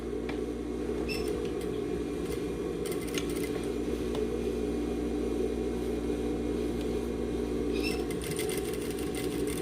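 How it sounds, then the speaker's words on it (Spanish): Industrial sewing machine stitching fabric pieces together for a bucket hat, a steady close, loud mechanical whirring hum throughout, with a few brief clicks and ticks at intervals. "vamos a empezar a coser en la mera orilla, justo ahí donde se unen las piezas"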